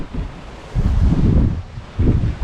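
Wind blowing hard over a racing sailboat at sea, heavy gusty microphone buffeting that surges in two strong bursts, close and loud, with no one speaking.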